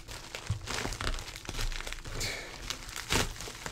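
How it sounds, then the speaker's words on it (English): A mailed package containing a Hori controller is ripped open up close, with steady crinkling and tearing of packaging material in irregular bursts. "Just rip it open."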